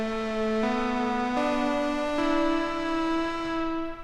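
A synth lead patch built to mimic a dirty cassette plays a few sustained notes stepping upward, with a slight wavering pitch and a bright, buzzy tone, heard alone and close.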